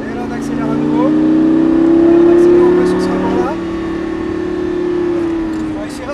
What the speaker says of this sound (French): Et là on reprend de la vitesse.